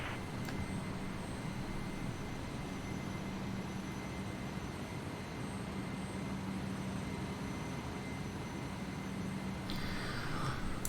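A Citation business jet takes off from runway 28 right, its engines a steady, loud, broadband roar with a low hum running throughout, heard from inside the cabin.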